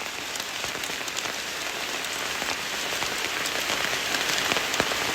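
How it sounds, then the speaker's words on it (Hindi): Heavy monsoon rain in Arunachal Pradesh, India, pours steadily onto surfaces nearby, a dense, unbroken hiss with scattered sharper drops and no voices. "बहुत तेज़ बारिश हो रही है।"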